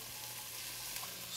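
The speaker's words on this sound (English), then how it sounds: "It sounds like you're frying them." Onions and other vegetables sautéing for turkey chili give off a steady, close sizzle in a pan, continuous and even throughout with no talking.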